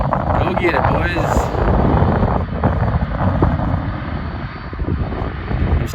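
Water bomber aircraft flying over near a wildfire, a steady loud engine roar lasting throughout, with heavy wind buffeting the microphone.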